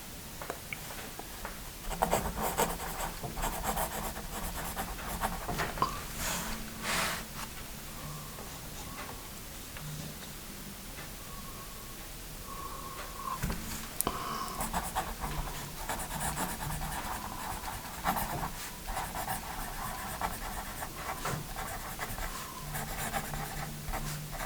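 A Paper Mate Write Bros 0.9mm mechanical pencil scratches steadily across paper, close and continuous strokes with brief pauses, over faint background noise.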